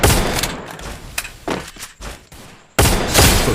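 Gunfire in a video game match: several sharp, loud shots and bursts with short gaps between them, separated by quieter thuds, and a heavy volley that returns at the end.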